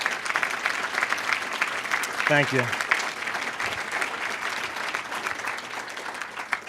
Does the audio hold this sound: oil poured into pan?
no